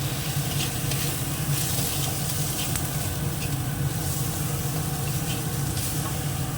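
Mushrooms frying with spice masala of turmeric, ground coriander and cumin in a pan, an unbroken loud close sizzle with faint stirring underneath.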